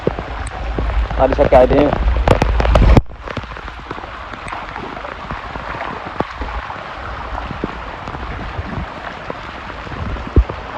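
Heavy rain pours steadily on a village, a dense patter close by, while a person speaks briefly over it at the start.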